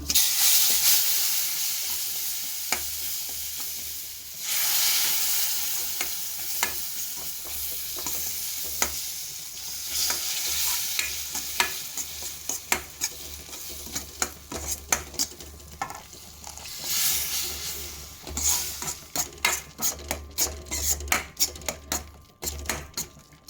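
Steady frying sizzle with bursts of crackling and spitting as boiling water is poured bit by bit into frying semolina for rava halwa, growing sharper and more popping toward the end.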